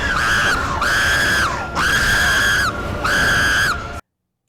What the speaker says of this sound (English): Stop screaming! Stop!